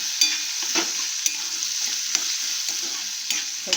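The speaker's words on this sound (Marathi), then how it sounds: "हे चांगलं परतून घ्यायचं आहे आपल्याला" Soaked cashew pieces sautéing in a pan while being stirred: a steady hiss of frying with repeated spoon scrapes and taps against the pan, close and continuous with no talking.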